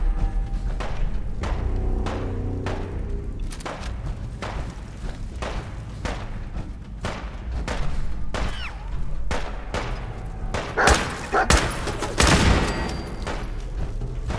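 Gunshots in the Fallout 4 wasteland, several sharp bursts and thuds spread across the stretch, the loudest cluster landing toward the end over a steady background rumble.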